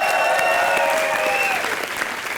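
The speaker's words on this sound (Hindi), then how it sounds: "एक बार जोरदार तालियां हो जाए" Loud studio audience applause for the cast of a Hindi comedy show, a dense steady wash of clapping with music tones underneath, fading slightly toward the end.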